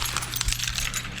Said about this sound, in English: Let me grab some keys, maybe.